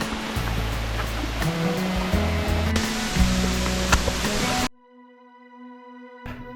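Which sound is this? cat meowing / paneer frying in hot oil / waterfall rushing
waterfall rushing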